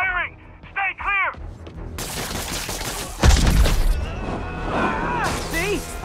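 Gunfire in the Spider-Man PS4 video game breaks out as a loud, dense volley of shots and crashes after a few seconds, following stretches of game dialogue, with voices and clatter continuing over the shooting.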